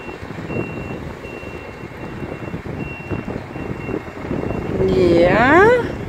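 Reversing beeps sound steadily from a turning bus while its engine rumbles nearby, with a rising whine toward the end and people talking faintly in the background.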